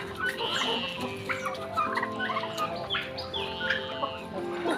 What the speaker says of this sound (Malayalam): ടർക്കീസ് എല്ലാം ഭയങ്കര ബിസിയാണ് ഇവിടെ